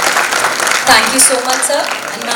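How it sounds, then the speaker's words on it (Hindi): Applause from a theatre audience for the special guests before a play, a broad wash of clapping that a voice talks over close to the microphone. "जोरदार तालियां हो जाए हमारे विशिष्ट अतिथियों के लिए"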